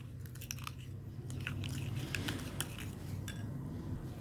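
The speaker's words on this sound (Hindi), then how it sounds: "अच्छे से मिक्स करेंगे।" A spoon scrapes and clinks in a small bowl while mud face mask paste is mixed with honey and lemon, giving soft, irregular wet stirring and tapping sounds, close and fairly quiet, with no talk.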